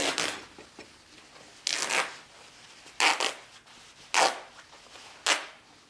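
Denim jeans fabric being torn apart by hand, five separate short ripping bursts spaced about a second apart, close and fairly quiet with no talk.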